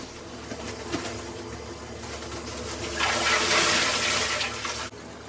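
Water runs into a tub set over a shower drain to make an ice bath, a steady splashing pour that grows louder and brighter midway, then cuts off abruptly near the end.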